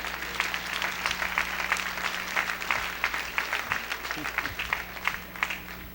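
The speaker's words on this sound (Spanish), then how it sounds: "Gracias por ese amén tan entusiasta, por ese aplauso tan gozoso." A church congregation applauding during a Spanish-language sermon, a rhythmic round of clapping from a mid-sized crowd, fairly close, with a voice faintly under it.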